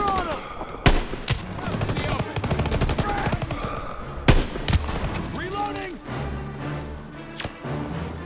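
Call of Duty WWII campaign combat rattles with bursts of machine-gun fire and single rifle shots, joined by shouting soldiers and frantic battle noise, loud and continuous.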